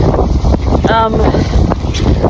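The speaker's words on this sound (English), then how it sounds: "It's just like so windy and rainy." Strong wind buffets the microphone on a remote hiking trail in Iceland during wind and rain, a loud continuous roar with gusty swells and a brief whistling tone partway through.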